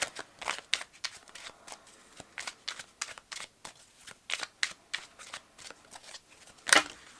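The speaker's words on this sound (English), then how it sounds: "Oops, so many cards falling now. It always happens with this tiny little deck." A tiny tarot card deck is shuffled up close in quick, crisp riffling bursts with a steady rhythm, cards slipping and falling, and a sharper slap near the end.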